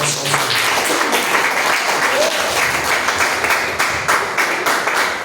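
Dense, loud applause from a church congregation, sustained clapping filling the whole stretch.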